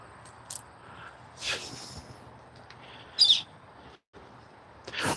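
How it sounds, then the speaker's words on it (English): An unidentified bird calls far off outdoors, a short faint chirp rising briefly above a low, steady background hum, with a few other soft bursts around it. "I don't know what kind of bird that is."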